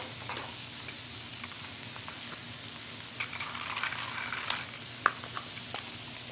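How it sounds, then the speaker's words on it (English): Vegetables and pepper sizzle in a stew pot for a Native American stew, a quiet steady frying hiss with sporadic clinks and stirring taps, one sharper metallic click near the end, no talk. "Going to add the vegetables."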